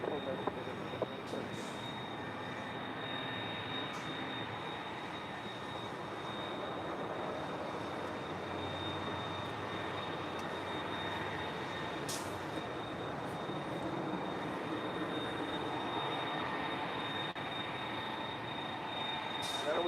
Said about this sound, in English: She is loud for an A330.